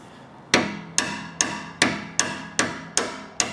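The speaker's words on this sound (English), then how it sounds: "you take your hammer. Okay. It's starting to move the inner ring from the outer." A hammer strikes the fuel pump lock ring on a 1996 Ford F-250, eight sharp metallic blows in a steady rhythm about half a second apart, close and loud, each ringing briefly. No one talks.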